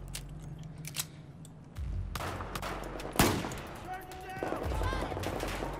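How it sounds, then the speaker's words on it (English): Gunfire in the Battlefield 4 video game, sharp single shots and short bursts amid game ambience, one louder crack standing out, with someone talking quietly in between. "Long-range shots with pistols, that's how you kill people in this game."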